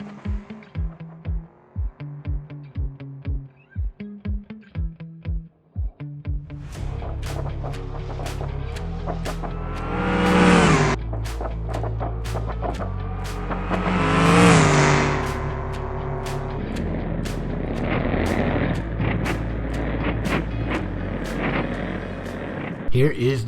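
The Bruckhelm Bastion drag car in a BeamNG racing game idles with a lumpy, pulsing rumble, then launches and revs hard through rising engine sweeps, loud and close with shift breaks, while a voice talks early on.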